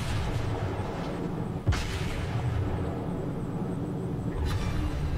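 Naval guns from the battleship South Carolina in World of Warships fire in a game battle, a deep boom near the start of a low, rumbling background and another softer thud toward the end.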